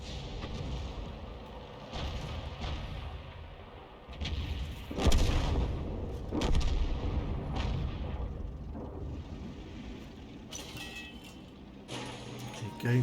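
Artillery shells fire at tanks near a hilltop windmill in a tank battle game, several heavy booms spaced a few seconds apart over a rumbling battlefield background, with someone commentating over it.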